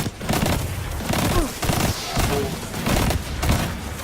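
Dense, continuous gunfire from a shooter video game, overlapping bursts and booms sounding close and loud with hardly a pause.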